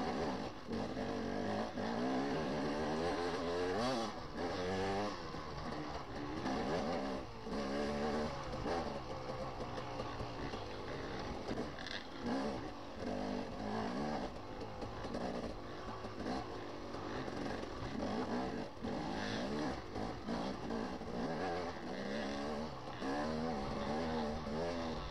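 A dirt bike engine in a hare scramble race drones and revs steadily while climbing a hill on a rough wooded track, loud and continuous with no talking.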